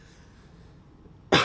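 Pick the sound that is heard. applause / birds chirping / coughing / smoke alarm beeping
coughing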